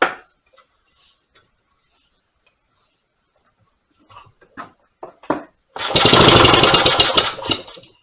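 A rare 1924 Maytag Model 82 washing machine engine, rebuilt and with its carburetor choked, gives a few weak sputters and then catches into a loud, dense, close-up run for about two seconds before dropping off.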